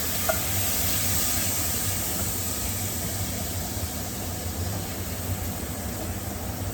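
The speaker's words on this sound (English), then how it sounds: "And now we're just going to stir it." A steady hiss of food cooking in a hot pan for French onion smothered chicken, a broad, even sizzle with faint stirring and no talking.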